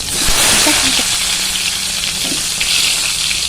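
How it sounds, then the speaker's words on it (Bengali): Pointed gourd (potol) pieces fry in hot oil in a wok, giving a loud, steady sizzle and crackle that holds unbroken throughout, with faint clinks from the pan underneath. "তারপর একটা কড়াইয়ের মধ্যে তেল গরম করে একে একে পটলগুলোকে আমি ভেজে নিচ্ছি"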